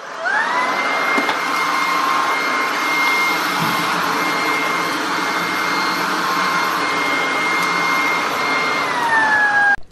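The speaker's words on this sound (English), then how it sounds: "So now the Hoover's coming out." A Hoover vacuum cleaner runs steadily to clean mud off a floor, its motor whine rising at switch-on, holding a loud, even drone close by for several seconds, then winding down at the end.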